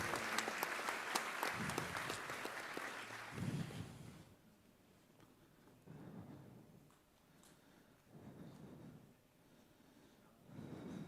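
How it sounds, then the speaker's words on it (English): Applause at a graduation ceremony in Sydney, clapping for about four seconds before it stops abruptly, followed by quieter stretches with low murmurs and intermittent rumbling noise. "Round of applause for brother."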